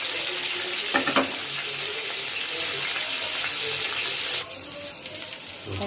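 Small-fish patori wrapped in banana leaf frying in hot oil, a steady broadband sizzle with a brief louder burst early on, continuing close and even throughout.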